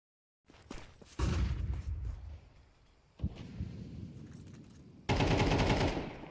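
Rapid automatic MAC-10 fire in a Counter-Strike-style pro league match, three bursts of sustained rattling shots with brief gaps between them, close and loud.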